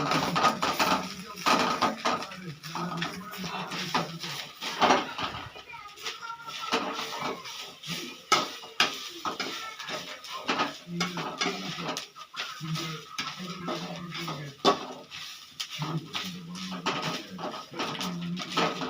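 Chillies, spices, dried ginger, coriander, coconut and curry leaves being dry-roasted in a pan, with close, irregular scraping and clinking of a utensil against metal running throughout under ongoing speech.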